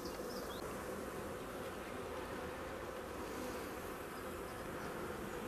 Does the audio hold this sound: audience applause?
no